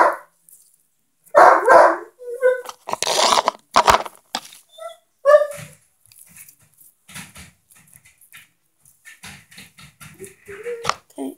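Tonka, a one-year-old dog, barks loudly several times nearby, then keeps up softer yips and whimpers, with a little background noise between the barks.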